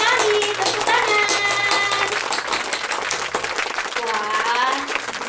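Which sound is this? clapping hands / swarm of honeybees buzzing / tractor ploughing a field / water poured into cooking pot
clapping hands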